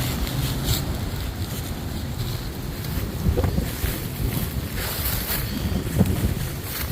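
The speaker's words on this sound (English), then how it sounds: "Water's definitely a little choppy today" Choppy water slapping against a small boat underway, steady rushing wash with heavy wind buffeting and occasional knocks, no talk.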